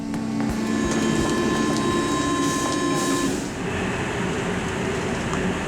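A Paris metro train rumbles and screeches steadily nearby, with high-pitched squealing tones over a dense, rattling roar.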